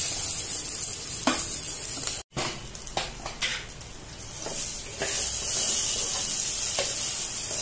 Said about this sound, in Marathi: चांगलं परतून घेऊ आपण.